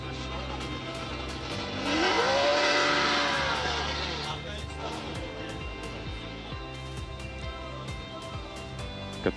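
A drift car at Sportsland Sugo track revs hard, its engine whining up and holding a high pitch before easing off, with tire noise and crowd chatter behind it and rhythmic clicks continuing afterward.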